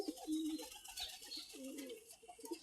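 Pigeons coo on a rooftop, soft repeated low coos in a couple of short phrases, faint and a little distant over light background noise.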